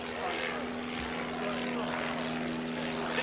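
An Auster J1 Autocrat light propeller aircraft takes off at an autumn air display at Duxford, its engine droning steadily at a moderate distance and sounding continuous, with a low hum throughout.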